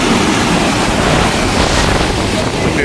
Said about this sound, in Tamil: எவ்வளோ பெரிய அலைண்டு வரணும் பயங்கரமாக அடிக்குது இந்த காற்றுக்கு